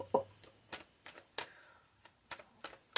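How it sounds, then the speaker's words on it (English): A deck of tarot cards is shuffled by hand, giving a series of short, crisp riffling bursts spaced irregularly and heard up close in an otherwise quiet room. "Shuffle, shuffle, shuffle."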